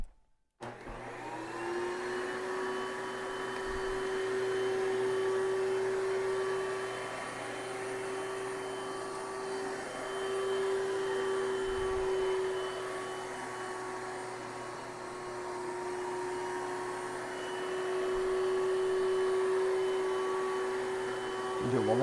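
Bissell TurboClean PowerBrush Pet carpet cleaner, model 2987, running on carpet: a steady, loud motor whine with a sustained tonal hum, swelling and easing slightly as it passes back and forth, with brief low thumps.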